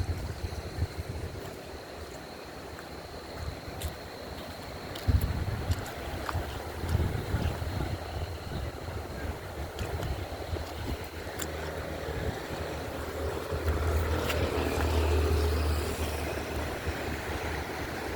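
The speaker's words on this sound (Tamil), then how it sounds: "எவ்வளோ தண்ணி போகுது பாருங்கள்." Heavy water rushing beneath a bridge near Ratnagiri, a steady broadband roar with wind buffeting, no voices.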